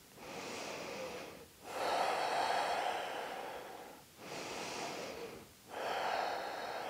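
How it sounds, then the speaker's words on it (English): Slow, deep breathing in a gentle restorative yoga pose, long audible inhales and exhales close to the ear with brief pauses between breaths. "Breathe here for two breaths."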